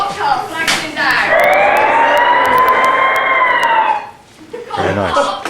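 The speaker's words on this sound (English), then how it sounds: "A cop car flags him down" A police car siren wails loudly and close, one long rising-and-falling sweep over engine rumble, then cuts off before a brief voice.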